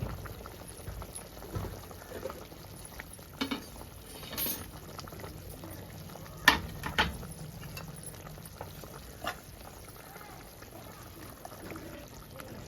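Fish curry broth bubbles at a boil in a pot: a quiet, low burble runs throughout, with a few sharp clinks and small knocks rising above it.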